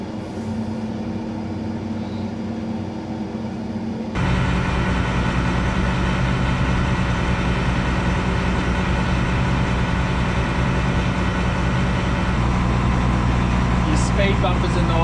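Harvest machinery in Western Australia, a combine harvester shifting its header over to a shed, heard as a loud steady diesel engine drone that jumps louder partway through, with people talking over it.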